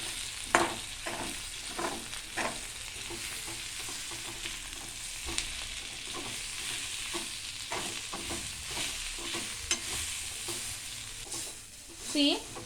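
Onion gravy masala roasts in hot oil in a pan with a steady close sizzle, broken by repeated scraping stirs and occasional sharper knocks of the spoon.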